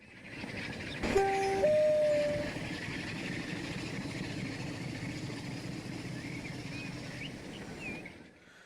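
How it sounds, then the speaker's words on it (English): A locomotive in the railway simulation game Transport Fever 2 rumbles steadily, with a brief two-tone horn blast near the start over a low continuous rolling drone, moderately quiet. "The sound effect is quite good on this locomotive."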